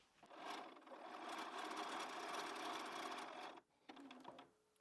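A sewing machine runs steadily for a few seconds while stitching the final long seam of a LeMoyne Star quilt block, then stops briefly and gives one more short burst of stitching.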